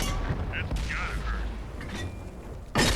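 Tank cannon shots in World of Tanks aimed at a Churchill's tracks, a heavy boom at the start and another at the end, with mechanical rumble and someone talking in between.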